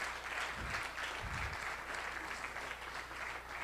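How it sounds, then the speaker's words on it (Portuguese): Applause from an audience at a closing session of a network conference, honoring the organizers and leaders; a steady broad wash of clapping hands running throughout at moderate distance, with a couple of low thumps near the start. "Eu queria pedir uma salva de palmas para as nossas lideranças."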